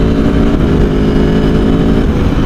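Aprilia Tuono 1100 Factory motorcycle accelerating hard, a loud, dense engine roar at close range that holds steady with a slight shift in tone as the quick upshift clicks through.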